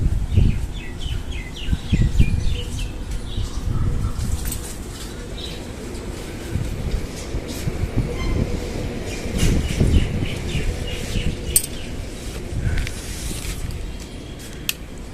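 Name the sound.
birds chirping at feeding spot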